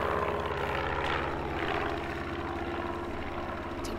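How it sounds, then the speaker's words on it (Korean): A light propeller plane passes overhead, its droning engine steady and fairly loud throughout, rising and falling slightly in pitch with no talk. "경비행기."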